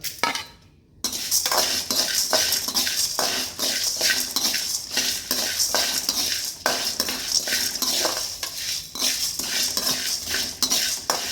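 Urad dal and peanuts dry roasting in a pan on low heat for idli podi, stirred with a metal spoon that scrapes and clinks rhythmically against the pan, close and continuous after a brief pause, with no talking.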